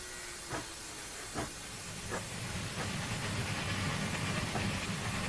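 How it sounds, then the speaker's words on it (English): Safety valves blow off on a Rio Grande Southern steam locomotive in Train Sim Classic, a steady loud hiss of escaping steam broken by a few short clanks and growing denser toward the end. "We're blowing off the safeties. We've clearly got plenty of steam."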